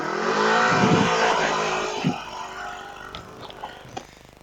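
A Polaris RS-1 off-road vehicle shifted into drive pulls away under hard acceleration, its engine roaring loud and close for about two seconds before easing off into lighter running and scattered mechanical clunks.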